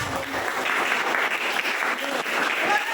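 Roomful of people clapping in a classroom setting, a continuous even wash of applause held for several seconds at a fairly loud level.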